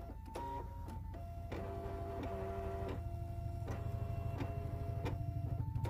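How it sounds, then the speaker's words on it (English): A Brother ScanNCut machine cutting fabric pieces from a layer cake, with a steady mechanical hum, rapid ticking and repeated short motor whirs as the carriage moves, close and continuous. "I used my Brother Scan and Cut to cut out all of these pieces"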